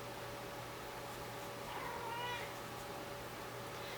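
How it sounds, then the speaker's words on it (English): A pet cat gives a single short meow in the background partway through, faint under steady room hiss and a low hum, with no talking. "sorry if you hear my cat in the background"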